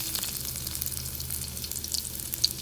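Garlic fries in oil in a pan for squid adobo, a steady, gentle crackling sizzle with small pops, close by and without speech.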